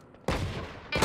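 Gunfire from the video game Valorant, with two loud, close bursts of shots, the first lasting over half a second and the second beginning just before the clip ends.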